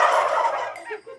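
A commercial turkey gobbles loudly and close up in a noisy, unfamiliar indoor setting, one rapid rattling burst that tails off into a few softer clucks, with no talking over it.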